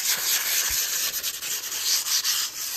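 Sandpaper scrapes back and forth over filler putty on a wall, close and steady, with rhythmic rubbing strokes and brief pauses between passes and no voices.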